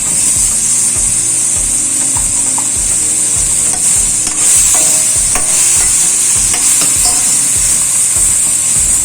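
Cut drumstick pieces being stirred through cooked tomato masala in a pan, with repeated rhythmic scraping strokes over a constant bright sizzle, close and loud, with no voices.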